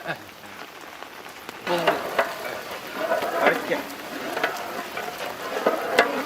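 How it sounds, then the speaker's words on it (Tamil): Sticky, bubbling sizzle with irregular scraping strokes as thick orange marmalade is stirred in a hot pan, growing busier after the first couple of seconds. "சர்க்கரை இனிமே கிண்டுறத நிக்காம கிண்டு."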